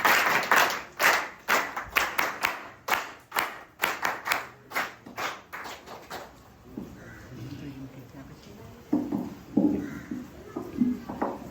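An audience at an Arya Samaj Navratri maha yagna gathering claps in a run of sharp, regular beats for about six seconds. Quieter scattered sounds and faint voices follow.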